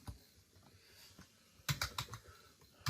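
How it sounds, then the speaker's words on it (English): Typing on a computer keyboard while entering a domain name: faint, sparse key taps at first, then a quick close cluster of louder clicks near the end. "You type in your domain."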